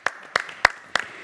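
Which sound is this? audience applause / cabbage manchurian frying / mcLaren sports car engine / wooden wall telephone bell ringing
audience applause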